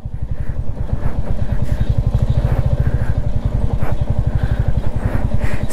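A motorcycle engine thrums in a steady, fast-pulsing beat while riding a rough mountain road on the way from Gangtok to Lachen in North Sikkim, loud and close with no talk.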